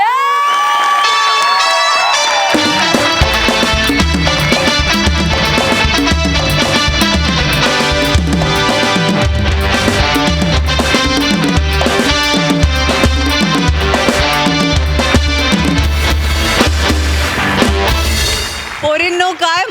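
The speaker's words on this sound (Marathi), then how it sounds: "जोरदार टाळ्या! बहारदार परफॉर्मन्स." A studio audience at a Marathi comedy show cheers, whoops and shouts loudly and continuously for several seconds after a performance, with excited voices high in the crowd and a brief musical sting at the start.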